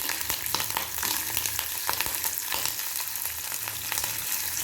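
Green chilies frying in oil in a pan for a street-food chutney, a dense, steady, close sizzle with frequent crackling pops and some stirring, with no talk.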